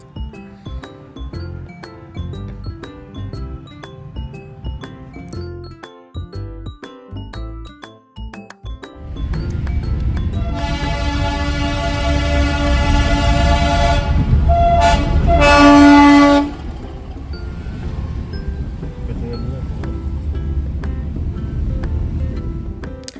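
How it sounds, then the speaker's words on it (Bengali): Siliguri's heritage toy train near Rongtong station rumbles past with clanking rail noise, then sounds a loud sustained horn for several seconds before the rolling continues. "শিলিগুড়ির ঐতিহ্য টয় ট্রেন সেটা যাচ্ছিল"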